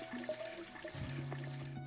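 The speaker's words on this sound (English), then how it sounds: "We're going to add some water so it steams and it doesn't dry out." Water pours into the bowl of a pressure cooker around a basket set up for steaming a Christmas pudding, a close, continuous splashing trickle with faint clinks, no talking.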